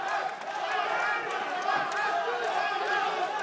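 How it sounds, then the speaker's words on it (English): Arena crowd at a professional boxing fight in Berlin cheering steadily throughout, a dense sustained roar of many voices with faint ring noise beneath, loud and continuous. "Crowd cheering him on."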